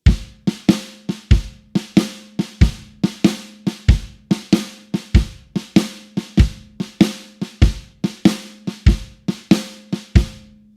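A basic drum beat alternating kick and snare hits in a steady, even rhythm, loud and clear with no other sounds.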